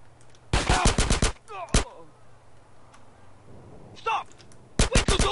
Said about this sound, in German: ich schieß durch eine Wand und ihr könnt nichts dagegen tun